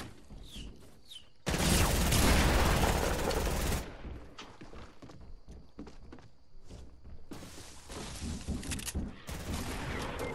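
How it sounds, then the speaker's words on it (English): Fortnite crossbow fire and other gunfire ring out in rapid bursts, with a long loud blast of shooting early on, then scattered shots, footsteps and thuds under faint game ambience. "Oh yeah, he's shooting the crossbow at me now"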